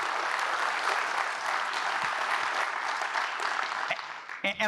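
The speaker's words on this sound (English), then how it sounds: "So let's give all of our Space Beach partners a huge, huge round of applause" A large audience at a civic event in Long Beach gives sustained, dense applause to Space Beach partners, loud and even throughout, with a few sharper claps and a brief voice near the end.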